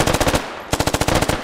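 Automatic gunfire in the Squad video game comes as two rapid bursts of sharp, evenly spaced shots, loud and close, separated by a brief gap.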